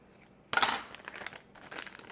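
A plastic piping bag of frosting crinkles up close as its end is cut off, with a sharp rustling burst followed by softer, intermittent crinkling and handling noises, fairly quiet overall.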